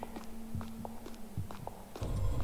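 Footsteps in the Roblox horror game The Mimic, set in a dark sewer hallway: a series of faint, irregular thuds at a distance, ending in a louder rumble.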